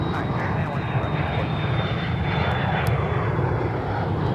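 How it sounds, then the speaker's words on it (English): A black Embraer ERJ 135 or 145LR regional jet operated by Key Lime Air at Minneapolis–St. Paul airport, giving a steady, loud engine roar with a faint high whine that holds throughout. "This is a brand new acquisition for Key Lime Air, this black Embraer ERJ 135 or 145LR"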